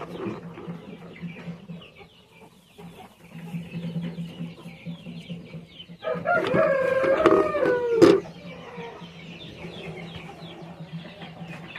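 Chickens in a coop during egg collection cluck and squawk at a moderate distance, rising to a louder drawn-out call midway over a steady low background hum.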